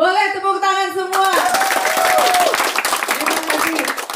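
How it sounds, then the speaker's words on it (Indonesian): After a short musical jingle, a radio studio audience in Samarinda claps along, a busy stretch of hand claps mixed with crowd voices and speech. "Boleh tepuk tangan semua."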